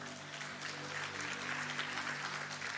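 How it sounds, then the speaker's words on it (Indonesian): Church congregation applauding the behind-the-scenes team, a steady, fairly faint wash of clapping from a large audience with a low hum beneath it. "Tim XCOM berikan tepuk tangan buat mereka"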